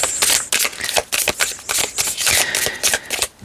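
A deck of cards being shuffled up close, a rapid run of crisp riffling flutters and soft slaps with no talking.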